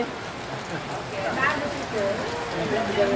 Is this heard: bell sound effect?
no